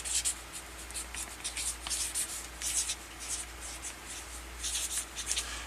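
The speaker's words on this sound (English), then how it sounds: "So I brought down some envelopes, and I just want to write on there" A pen scratches across a paper envelope, marking it up for a batch of saved ornamental gourd seeds; brief bursts of soft writing strokes come and go close up over a low steady hum.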